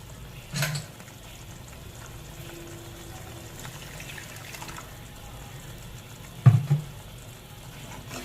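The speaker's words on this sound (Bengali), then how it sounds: "এবার এর মধ্যে জল দিয়ে দিচ্ছি গ্রেভির জন্য।" Water poured into a pan of mustard paste to make gravy gives two brief splashing bursts, one early and one near the end, over a faint low simmering hiss.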